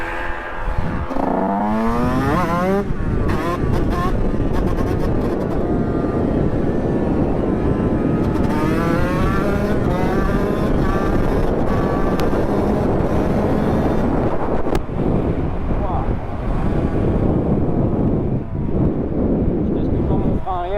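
A Yamaha 125 YZ dirt bike rides along mountain roads, its engine revving up and down in pitch under steady wind rush while someone talks over it.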